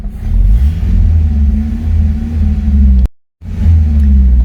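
A 1986 Honda Civic CRX HF engine idles roughly and loudly up close, a shaky low rumble with uneven pulsing as if close to stalling, cutting out briefly before resuming.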